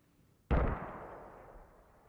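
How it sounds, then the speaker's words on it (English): A single mortar shell impact in the Post Scriptum war game during a Market Garden bridge battle: one sudden, loud, booming blast that rolls off into a long, fading rumble, with no voices. "So the mortar's landing on the far western side of the bridge at the moment"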